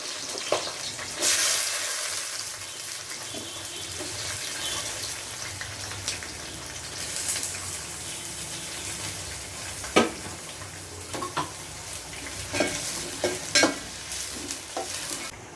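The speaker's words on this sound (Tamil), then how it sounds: "அதனால் 200 கிராம் வெங்காயம் நான் நீல வாக்கில் வெட்டி வச்சுருக்கேன், அதையும் சேர்த்துக்கிறேன்." Thinly sliced onions frying in a pan for Malabar-style beef biryani, a steady soft sizzle with occasional clinks and scrapes of stirring throughout.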